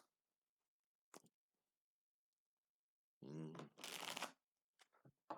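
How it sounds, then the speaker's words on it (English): Tarot card deck being shuffled in a quiet room, two bursts of riffling cards, one brief and one longer, with a short sigh-like breath between. "Let me shuffle for a second off the camera"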